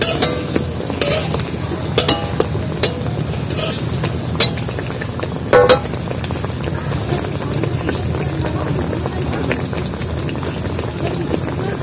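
Gadal leaf fritters frying in oil, a dense bubbling sizzle with scattered sharp pops and spatula knocks, loud and close, with some speech mixed in.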